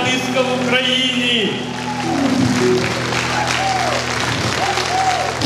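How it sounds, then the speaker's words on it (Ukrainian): A concert audience at a folk-comedy show in Truskavets claps loudly in sustained, dense applause, while an announcer's voice talks and calls out over the clapping. "Вітаємо, вітаємо бурхливими оплесками!"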